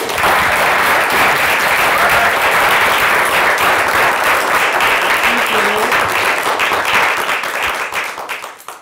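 Sustained applause from a seated audience welcomes speaker Marisel Moreno at a book discussion, a steady even wash of clapping for several seconds that fades out at the end.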